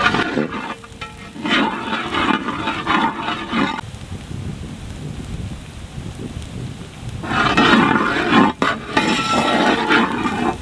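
Green chilies and curry leaves hit hot oil in a pan for a village-style capsicum goat blood fry, a loud close sizzle that eases off midway and then flares up again with stirring.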